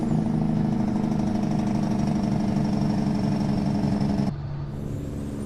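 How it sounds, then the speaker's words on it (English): Kenworth K100 cabover truck in American Truck Simulator, its engine brake droning as a loud, steady, rumbling diesel note at speed, cutting off abruptly near the end. "Here's the Jake brake sound."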